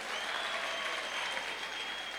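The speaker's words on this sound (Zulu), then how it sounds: "Ngicela sishaye ihlombe kuleyo ndawo." Sustained audience applause at a Khuzani maskandi event, a dense and even wash of many hands clapping at a steady, fairly distant level, with no voices standing out.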